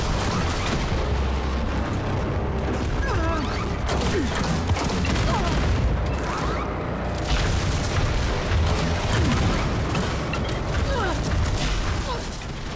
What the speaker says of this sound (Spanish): ¿Dónde salen todas esas explosiones gigantescas?